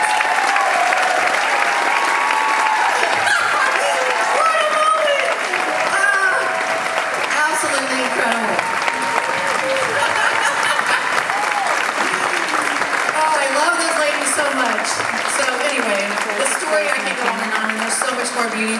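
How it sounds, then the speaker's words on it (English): A concert audience at a breast cancer benefit show gives a long, steady round of applause with cheering, a dense crowd sound that holds for the whole stretch. "If we could give them a round of applause."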